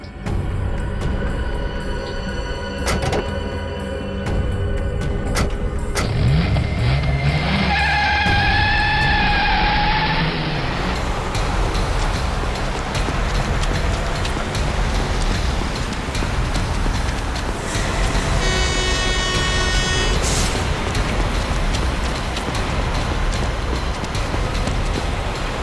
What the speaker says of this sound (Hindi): अबे गाड़ी भगा, तेज चला।